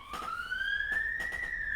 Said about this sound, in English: Oh, is that siren coming here?